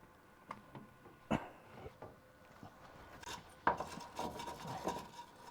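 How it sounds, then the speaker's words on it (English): A brush scrubs rough bead welds on the steel body of a Charger crew cab under restoration, in short irregular rasping strokes and knocks, fairly quiet and close, with no talking. "Let's clean it off with the brush, and we'll see what we can see."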